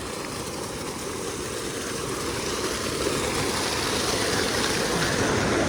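Flood water rushes steadily through a creek as it drains, a loud, continuous broadband roar of flowing water close by, unbroken for several seconds and without speech.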